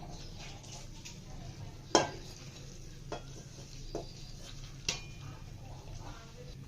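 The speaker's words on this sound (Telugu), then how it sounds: "బ్రెడ్ ముక్కల్ని గ్యాస్పై పెట్టుకున్నాను ఇందులో చక్కెర పాకాన్ని పోసుకుంటున్నాను" Sugar syrup pours onto milk-soaked bread pieces in a pan on a gas stove, bringing a soft low simmering hiss broken by a few sharp clinks and taps.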